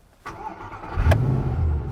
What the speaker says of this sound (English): So if the starter button is no longer functioning, you can start the car here. I'll just do it.